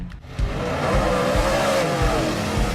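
Race cars roar at Mountain Motor Speedway, a small-community track in Allison, Kentucky, with a loud, continuous engine drone and revving from about half a second onward, heard fairly close with no talk.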